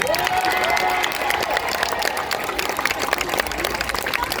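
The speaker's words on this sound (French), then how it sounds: "Vous pouvez vous applaudir très très très fort." Concert audience at an outdoor summer show in Valras-Plage applauding and cheering loudly, a dense steady wash of clapping with shouts and whistles throughout, while a voice and some music carry faintly above.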